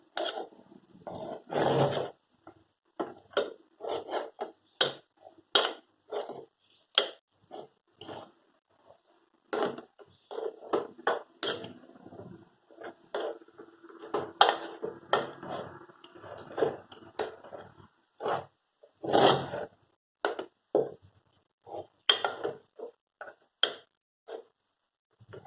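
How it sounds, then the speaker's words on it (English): Thick raagi mudde dough being worked in a pot, irregular slapping and squelching thuds in short bursts with pauses, close and moderately loud. "You basically have to mix it well."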